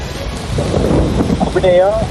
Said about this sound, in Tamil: கடலூர் மாவட்டத்தில் இடிமின்னலுடன் கனமழை வெளுத்து வாங்கி வருகிறது.